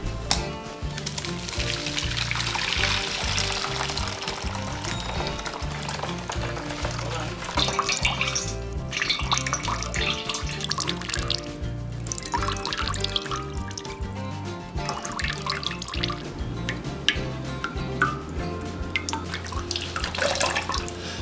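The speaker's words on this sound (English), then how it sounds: "you're just gonna squeeze the juice" Fresh coconut pulp squeezed by hand through a strainer to make coconut milk for Jamaican rice and peas, with liquid running and splashing steadily throughout under continuous background music.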